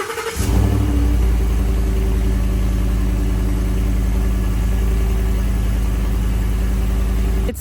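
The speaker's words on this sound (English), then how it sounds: "So this will be a good cold start for you guys." 2017 Ford F150 5.0 V8 on stock exhaust, cold-started: a sharp catch, then a steady, loud, deep idle with an even low rumble that holds to the end.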